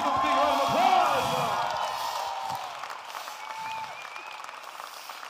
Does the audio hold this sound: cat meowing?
no